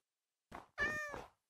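A cat in the video game Minecraft meows twice, a brief chirp followed by a longer, clear drawn-out meow, close and clean against silence.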